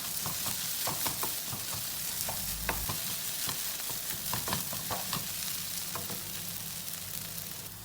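Quail egg bhurji fries in a pan with a continuous crackling sizzle while a spatula stirs and scrapes, giving frequent small taps and clicks throughout.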